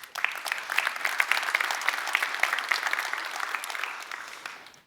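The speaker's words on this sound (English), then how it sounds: "everyone got an applause for standing up" Audience applause at a company tech event, with external guests standing up; a dense, steady burst of many hands clapping throughout, fairly close and even, fading at the very end.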